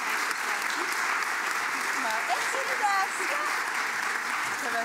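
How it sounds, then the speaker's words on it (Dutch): Steady audience applause fills a Dutch psychology congress hall, dense continuous clapping from a large crowd, with a few faint voices beneath it. "Ja, applaus alsjeblieft."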